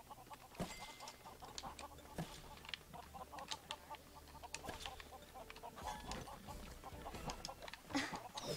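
Chicken clucks from the Lego Worlds video game, a series of short repeated clucks and squawks over a busy game soundscape with faint background sounds, fairly close and moderate in loudness.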